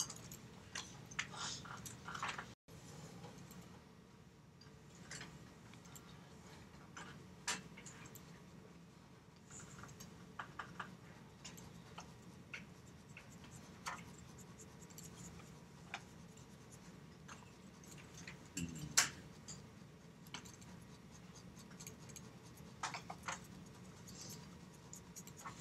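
A pen drawing lines on paper for isometric perspective drawings, a soft, intermittent scratching with light ticks and strokes, faint and close, with no talking.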